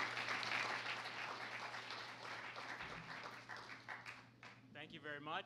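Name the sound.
audience applause welcoming a finalist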